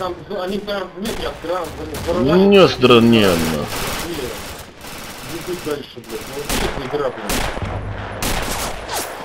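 Battlefield gunfire in the video game Red Orchestra, with sustained shooting and shots mixed under music or radio voices and talk throughout.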